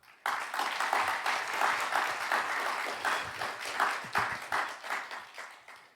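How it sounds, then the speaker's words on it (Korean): An audience at Daeshin University claps warmly to welcome its honorary president, a former two-term university president. The applause is close, lively and continuous, with a few faint voices mixed in. "여러분 먼저 박수 한번 하겠습니다"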